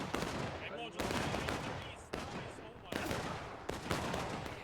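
Musket gunfire in a Civil War video game battle: five loud, sharp shots at irregular intervals about a second apart, each with a crackling decay, and faint voices in the mix.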